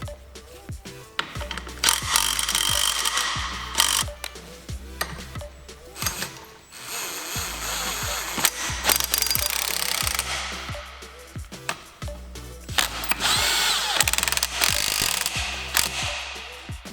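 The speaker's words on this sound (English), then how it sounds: "I'm going to remove these two bolts right here that's on the back of the transmission mount." A hand ratchet loosening bolts on the back of a transmission mount, with repeated rapid clicking bursts separated by short pauses and metallic knocks, close and clear with no talk.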